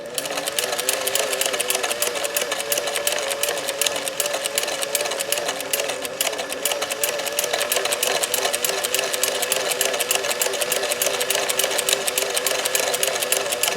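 A Singer 431G sewing machine fitted with a Zigzagger 161158 attachment stitches steadily at close range, its rapid needle clatter running without a break at an even, loud level and no talking over it.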